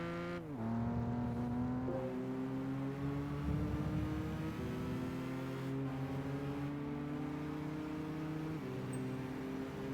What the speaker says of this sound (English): At least this still somewhat sounds like a BMW in Gran Turismo, I suppose.